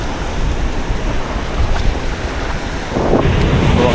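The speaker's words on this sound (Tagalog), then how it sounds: "Dito tayo sa may mga alon." Loud wind buffets the microphone over continuous rushing ocean waves at sea from a fishing boat, growing slightly stronger toward the end, with no talking.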